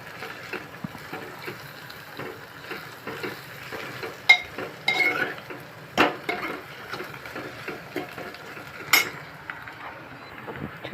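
Shredded cabbage and onions soften in a pan with turmeric, salt and chili powder, a low sizzle under intermittent sharp clacks and scrapes of a spatula stirring, with no voices.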